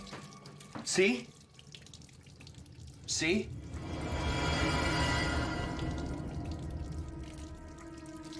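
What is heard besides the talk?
water dripping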